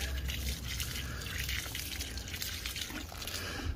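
A newly planted clematis gets a deep soak in garden soil, a steady close trickle and splatter of water pouring from a can, continuous and without talk.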